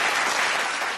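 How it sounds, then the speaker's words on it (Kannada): A studio audience at a televised Kannada talent show breaks into steady, full applause that sounds like many hands clapping together and fills the whole moment without any talking. "ನಮ್ಮ ಸುಧಾರಾಣಿಯವ್ರಿಗೊಂದು ಚಪ್ಪಾಳೆ ಬರ್ಲಿ"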